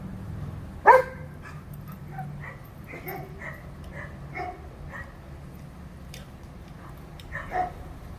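A dog gives a sharp bark, followed by softer yips and whimpers scattered through a quiet background, ending with another short bark.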